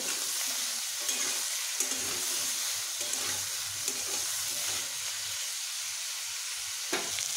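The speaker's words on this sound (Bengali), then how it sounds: "নুন হলুদ মিশিয়ে বেশ ভালোভাবে এগুলোকে ভেজে নেব।" Bottle gourd pieces frying in a pan with salt and turmeric, giving a steady, close sizzle and crackle with occasional stirring scrapes, no voices.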